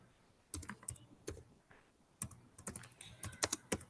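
Quick bursts of keystrokes on a computer keyboard, a few separated clusters of light clicking close by, fairly quiet with no talking.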